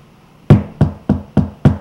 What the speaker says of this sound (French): quelqu'un frappe à la porte.